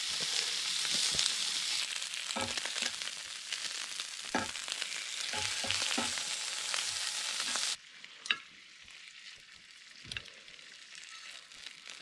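Steady hiss of cutlets frying in a pan while camping, with occasional clinks and taps, close by; the sizzle drops sharply partway through.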